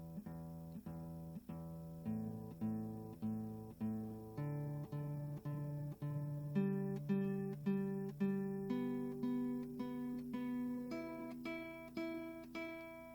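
Guitar strings are picked one note at a time in a steady, even rhythm, each note ringing clearly and decaying before the next.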